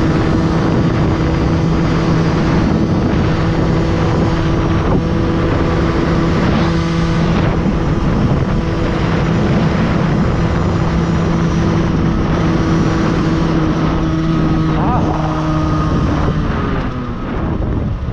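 An Aprilia moped rides along on a hot day, its engine holding a steady buzzing drone under heavy wind noise for the whole stretch, close and loud, with no speech.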